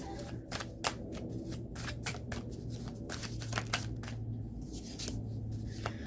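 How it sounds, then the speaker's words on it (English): Tarot cards being shuffled by hand, a soft, irregular run of quick riffling snaps and flutters, close and fairly quiet, with a faint low hum beneath. "This is just for people who might want to see me shuffle the cards."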